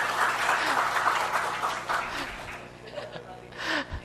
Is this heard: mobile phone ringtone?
no